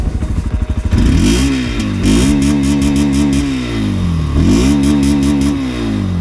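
A 2026 Bajaj Pulsar 125 motorcycle engine idles with a rough clatter, then revs up in rising and falling surges, loud and close, with no talking.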